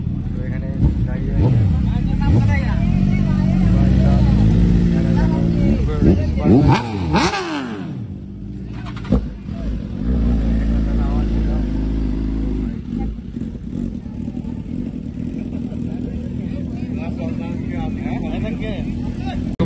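A BMW S1000RR superbike and other big motorcycles rev hard at a riders meetup, with loud rising and falling engine sweeps, sharp throttle blips and steady idling, while people talk nearby.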